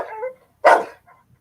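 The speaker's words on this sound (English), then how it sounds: "All of a sudden, Barney started barking." A dog named Barney gives a single sharp bark, close and loud, after a short soft vocal sound.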